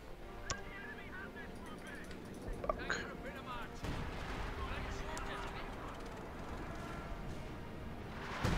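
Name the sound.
mortar pit destroyed by artillery fire in Company of Heroes 2 video game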